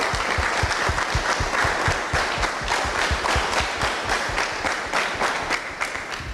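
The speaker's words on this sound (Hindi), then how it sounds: "पहले तो सारे बच्चे अपने लिए तालियां बजा दीजिए" Children at a school event clap for themselves in a lively round of applause, with distinct rhythmic claps standing out clearly and a few voices faintly mixed in.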